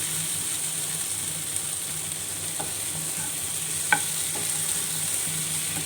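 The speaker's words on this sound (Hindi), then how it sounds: "इसको हम सही से मिक्स कर लेंगे।" Stirring a tomato and egg mixture in a frying pan, a steady sizzle underneath with a few soft scrapes and taps of the utensil against the pan.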